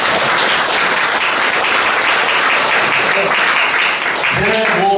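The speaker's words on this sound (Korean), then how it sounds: "이 대목에서 박수 한번 쳐주실 것 같아요." Audience applause fills a book concert hall at a Korean author's Q&A, loud, dense and steady for the whole stretch, with a voice speaking briefly near the end.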